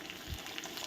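Sliced onions, well fried, sizzle in a pan for chicken kosha as split green chillies and tomato go in: a brief, steady, close frying hiss with no voices.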